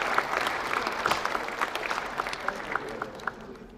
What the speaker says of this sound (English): We need to clap for the EBID.